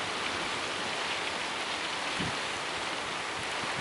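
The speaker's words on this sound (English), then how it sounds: "the rain is pouring down." Rain pours down steadily on an empty grey beach on a bank holiday, a fine, even hiss with no breaks or voices, fairly soft and continuous.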